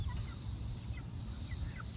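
Backyard chickens, adolescent chicks with an adult hen, cluck and chirp faintly over a constant outdoor background hiss, with a few short high calls across two seconds.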